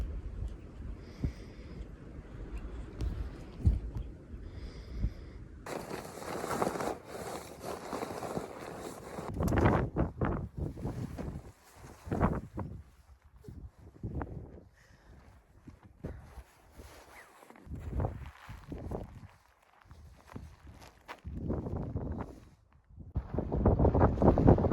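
Wind buffets the microphone in rough, uneven gusts, with rumbling low roar and sporadic louder blasts throughout, on the Pacific Crest Trail.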